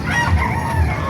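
A rooster crows at a busy animal market in Baliuag, one loud, close, drawn-out crow with a clucking edge that fills the whole moment.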